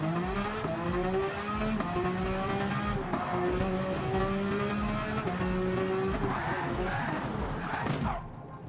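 A Porsche 992 drives past loudly with a steady engine drone whose pitch climbs and shifts through gear changes, and the level drops slightly near the end.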